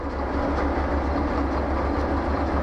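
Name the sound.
train starting to roll, Derail Valley video game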